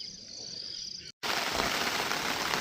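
Heavy monsoon rain pours steadily over a farm with onion seedlings, a dense, even hiss that comes in after a brief opening of chirping insects and a moment of silence.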